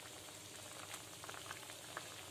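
Vada curry simmers in a covered pot, giving a faint, steady bubbling hiss with scattered small pops and crackles throughout and no voices.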